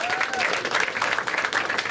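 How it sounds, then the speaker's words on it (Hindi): Audience applause at a comedy show, a steady dense wash of clapping filling the whole stretch at moderate loudness with no pauses. "एक बार ताली बजाओ इसके लिए"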